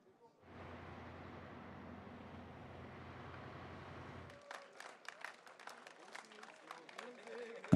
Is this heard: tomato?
no